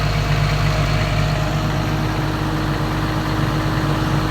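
A Komatsu PC200-8 excavator engine with a low-power fault, held loud and steady at full throttle as a constant deep drone with a steady hum and no pauses.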